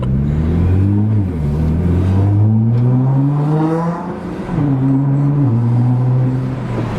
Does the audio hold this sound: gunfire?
no